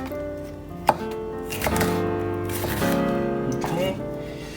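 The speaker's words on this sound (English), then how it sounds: "so I'm gonna cut it into half. And then again, julienne pieces." A knife julienning vegetables for Korean japchae on a cutting board gives a few quick cutting taps, one sharp near knock standing out, with a person talking over most of it.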